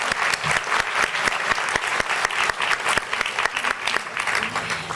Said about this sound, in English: So please, let us give them a round of applause